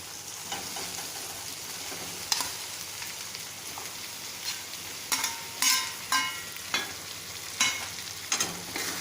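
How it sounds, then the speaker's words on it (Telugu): Boiled potatoes and browned onions being stirred in a frying pan for potato upma curry, a steady oil sizzle with irregular spoon scrapes and clinks scattered throughout, close and fairly loud. "వేసి ఇలా మెత్తగా అయ్యేదాకా వీటిని ఇలాగా తిరిమేయాలి."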